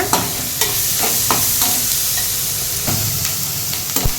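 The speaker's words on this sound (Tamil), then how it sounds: "இது நல்லா வதங்கணும் இது நல்லா கோல்டன் ப்ரௌன் ஆகட்டும் மீடியம் ஃப்ளேமில் வச்சுக்கோங்க" Onions sautéing over medium flame for a Chettinad chicken curry, a loud continuous sizzle with periodic scraping strokes of a spoon stirring the pan, close and unbroken by speech.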